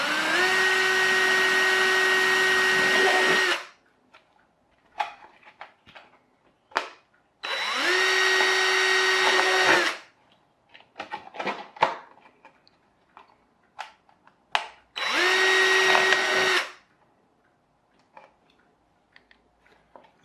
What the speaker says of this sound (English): you probably need to use a bigger drill than I just used